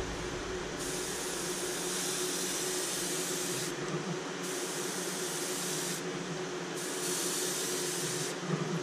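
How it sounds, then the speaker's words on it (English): Spray paint gun hissing lightly at low pressure in repeated bursts of several seconds each, separated by short pauses, a steady close airy hiss over a low background hum. "So that's spraying good, and we're going to go real light, not a lot of pressure here"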